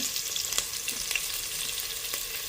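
Small onions sautéing in a pan for drumstick kulambu, a steady close sizzle with occasional soft stirring scrapes and pops.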